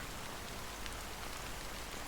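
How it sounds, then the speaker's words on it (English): Rain pours steadily in the game Honkai: Star Rail, a soft, even patter of drops on surfaces with no pauses and no voices. "how long has this rain been going on for?"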